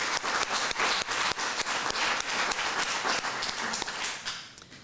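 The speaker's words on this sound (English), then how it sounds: "another round of applause for your very poignant words." Attendees at a World Health Assembly side event on noma applaud the speakers, with moderate, clearly separated claps in a brisk stream that thins out and fades toward the end.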